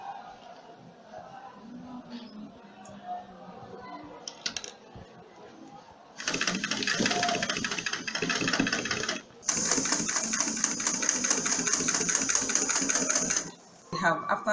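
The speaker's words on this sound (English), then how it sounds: "let's zoom up to the sewing machine." A sewing machine stitching a studded triangle purse, starting after some quieter handling and talk, then running in steady loud bursts with a brief pause between them, close up.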